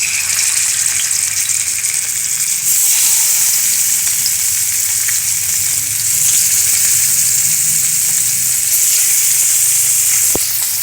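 Mackerel frying in hot oil in a pan, a loud, dense crackling sizzle that runs continuously and swells slightly partway through, with a sharp click near the end.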